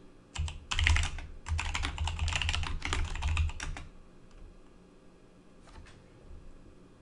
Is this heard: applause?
no